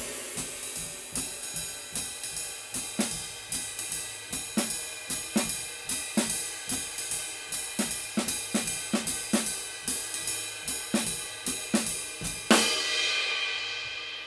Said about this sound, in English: I'm gonna play our jazz time, and every so often, I'm just gonna bring in only that placement on our snare drum